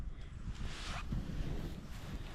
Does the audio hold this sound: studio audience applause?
no